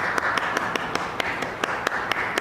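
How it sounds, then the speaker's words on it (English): An audience claps for a guest on a school morning show, with sharp individual claps popping out at a fairly regular pace over a continuous bed of crowd applause. "Crowd is just going wild"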